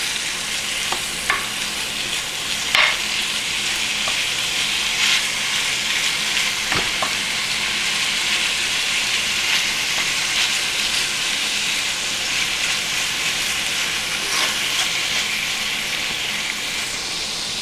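A pound of ground beef browns in a pan with a steady, dense sizzle and frying crackle, punctuated by occasional sharper scrapes and pops from stirring, continuous and close with no talking.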